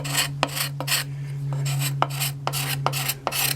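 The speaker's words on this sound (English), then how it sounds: "it's just scraping off very easily" Hand tool scraping wood from the limbs of a dry, crisp flexed yew bow stave, a steady rasping with sharp repeated strokes roughly every half second, close and alone over a low constant hum.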